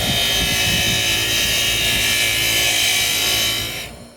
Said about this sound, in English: I'm just going to take it to my wire wheel on my bench grinder.